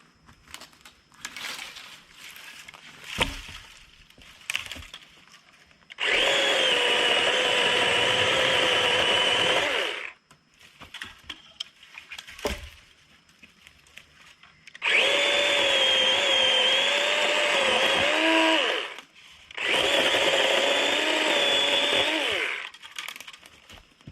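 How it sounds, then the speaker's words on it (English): A battery-powered chainsaw cutting wood whines loudly in three sustained bursts of cutting, separated by quieter pauses with small knocks and handling noises. "Right now I'm using this chainsaw for exactly what it was designed for"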